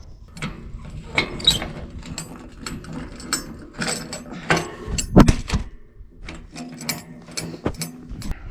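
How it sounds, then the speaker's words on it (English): A metal clamp is worked into place on a farm's main water fitting, giving a series of irregular clicks, ratcheting snaps and scraping knocks, close and fairly loud, with a few sharper clanks. "you take this clamp and just work it into place"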